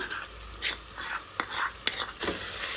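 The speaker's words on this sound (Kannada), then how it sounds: "ಶುಂಠಿ ಬೆಳ್ಳುಳ್ಳಿ ಪೇಸ್ಟ್ ಹಾಕಿದ ತಕ್ಷಣವೇ ಹಿಂದೆ ಇನ್ನೊಂದು 2 ನಿಮಿಷ ಫ್ರೈ ಮಾಡಿ" Ginger garlic paste fries in hot oil, a continuous close sizzle broken by a few sharp stirring scrapes and clicks of a spoon in the pan, with faint low speech underneath.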